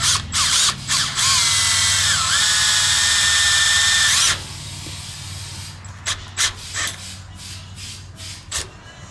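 A power drill with a sharp 1/4 inch bit bores into a part on a YZ85 motorcycle, a loud steady whine for about four seconds that then stops, followed by quieter clicks and handling noises.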